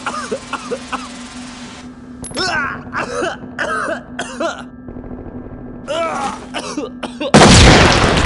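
Repeated harsh coughing and throat clearing from CS gas in the video game SWAT 4, in short bursts over a steady low hum, ending in a loud burst of noise.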